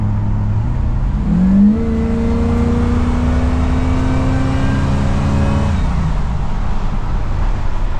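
A 1954 Chevy cabover truck engine pulls along at a loud, close, steady drone, with its pitch climbing and then dropping as it downshifts. No voices are heard.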